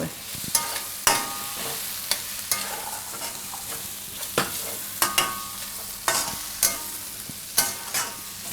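Cauliflower and capsicum curry stirred in a pan with fresh coriander, a steady series of spoon scrapes roughly once a second over a soft frying sizzle, close and alone.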